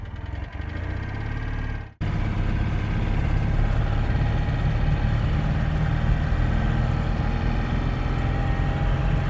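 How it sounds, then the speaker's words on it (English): A Citroën 2CV's engine cranks briefly, cuts out for a moment, then catches and settles into a steady, loud, close-up idle with a chattery low throb. "Listen to this startup, right?"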